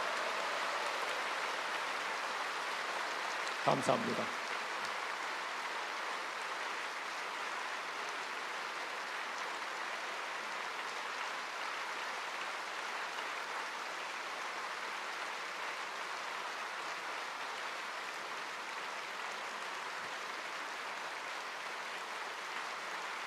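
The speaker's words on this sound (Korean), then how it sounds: "모든 선교사님들을 다시 한번 큰 박수로 환영해 주시기 바랍니다" Congregation applauding to welcome missionaries at a Pentecostal church world mission service in Seoul, a broad steady wash of clapping filling the hall throughout, with a brief louder burst near the start.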